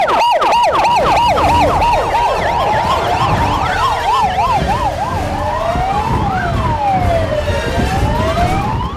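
Several emergency vehicle sirens from fire command, rescue and ambulance units dispatched during a disaster-safety drill in Goseong, overlapping wailing and yelping tones sounding loud and close throughout.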